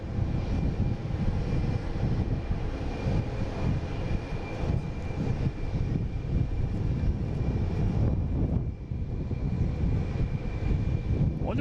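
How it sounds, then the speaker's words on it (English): An American Airlines Embraer E175 regional jet, operated by Republic Airlines, flies over Woburn near Boston Logan, its engines a continuous heavy rumble with a thin high whine, steady and fairly loud the whole time. "we have a American Airlines flight 4726 heading to Indianapolis, E175. Coming in over Woburn now."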